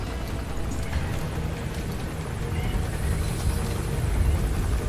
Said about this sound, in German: Wie nah der Heli ist.